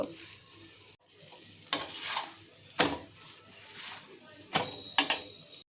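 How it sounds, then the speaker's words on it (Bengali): Aloo paratha brushed with refined oil frying on a pan, giving a steady soft sizzle with several louder bursts of scraping and turning, with a brief quiet gap near the start. "এটাকে রিফাইন্ড অয়েলে ব্রাশ করে বেশ ভালো করে ভেজে নেব"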